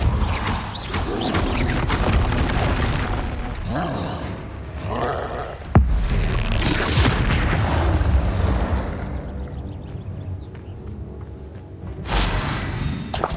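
Spells are cast in Hogwarts Legacy on PS5 in a dense, continuous battle din of loud roaring blasts, crashes and rumbling impacts, with one sharp bang near the middle and a fresh surge at the end.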